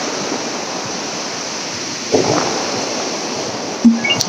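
Ocean surf on Devghali beach near Ganpatipule in Ratnagiri, a steady broadband wash of waves at moderate level throughout, with a couple of brief louder bumps near the end.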